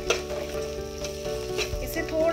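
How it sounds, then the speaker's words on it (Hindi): Onions, garlic, ginger and cashews sauté in a pan with a steady, close sizzle and crackle, with brief stirring scrapes and no talking. "थोड़ा सा सौते करेंगे"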